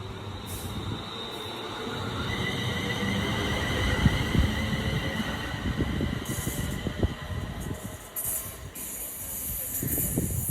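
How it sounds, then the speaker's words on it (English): A Pendolino passenger train runs through Lichfield Trent Valley on the West Coast Main Line, a broad rushing rumble with hiss and rattling wheel noise building and holding at close range. "Pendolino now."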